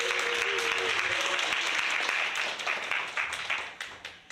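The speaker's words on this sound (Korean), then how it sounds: "우리 박수 한번 쳐줄까요?" A church youth-service congregation claps and applauds together, a dense burst that holds steady and then thins out into scattered claps that fade, with a brief voice over the start.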